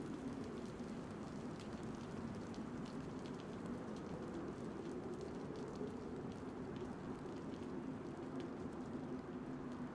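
Steady rain falling in the survival video game DayZ, an even, dense patter that holds at a constant, moderate level for the whole stretch, with no voices or other sounds over it.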